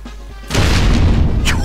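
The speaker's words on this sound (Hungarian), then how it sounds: "Következőben Izzy fog felrobbani" A high-explosive blast goes off in the video game Rainbow Six Vegas: a heavy, loud boom bursts in after a short quieter lead-in and rumbles on to the end.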